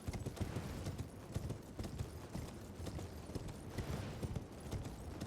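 Hoofbeats of the spectral steed Torrent climbing a slope in the video game Elden Ring form a quick, steady clip-clop rhythm, close and fairly quiet, with no talking over it.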